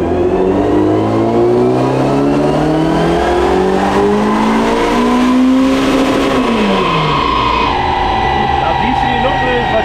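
A supercharged Mercedes 190E Evo 1 pulls hard in fourth gear on a dyno, its loud engine note rising steadily to a high wail before easing off, with people talking faintly underneath.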